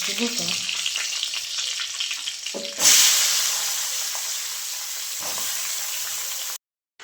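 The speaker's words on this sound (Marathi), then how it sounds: "सगळा भोपळा टाकला आणि भोपळा चांगला हलवून घेतला" Pumpkin frying in a pan with turmeric, stirred with close scraping strokes under a continuous sizzle, then a louder burst of hissing that fades before the sound cuts off.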